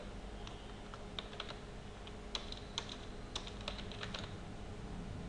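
Keys click on a computer keyboard in short runs of light, close taps over a steady low hum of background noise, with no voices.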